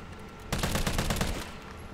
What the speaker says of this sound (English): Did I shoot him?